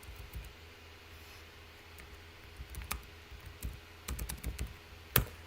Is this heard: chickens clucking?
no